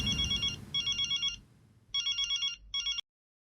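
A telephone rings with bursts of electronic trilling in a double-ring pattern, two pairs of rings that cut off abruptly as the call is answered, with faint low background noise underneath.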